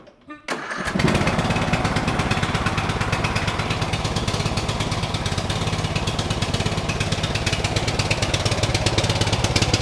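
A Briggs and Stratton engine on a farm starts up and then runs steadily at a raised idle, loud and close, with a lawnmower-like buzz throughout.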